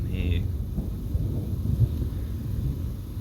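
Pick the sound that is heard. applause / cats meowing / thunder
thunder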